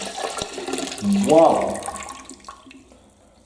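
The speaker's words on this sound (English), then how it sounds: "How do we pour this stuff out? I guess we pour it out from the side over here." Dirty water poured from the tank of a Hoover SmartWash carpet cleaner, a gushing splash swelling and then trailing off into drips, close by, with a brief exclamation from a person over it.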